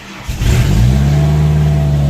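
A Ford Ranger pickup engine catches and starts, then rises to a loud, steady revving drone close by that holds evenly without any voices.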